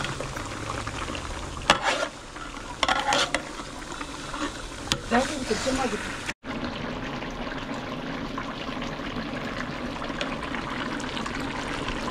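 Mutton cooking in its own released juices after spices are added, stirred in a pot for a village-style dry mutton dish; steady bubbling sizzle with a few louder scraping stirs early on, close and continuous.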